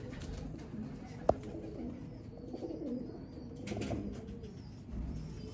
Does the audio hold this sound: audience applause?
no